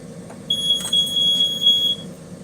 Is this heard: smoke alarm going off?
yes